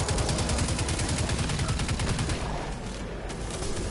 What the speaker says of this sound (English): That's something shooting me.